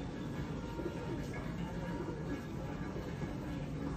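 A pigeon of the Mian Nazir bloodline coos softly in a low, faint murmur over steady background noise.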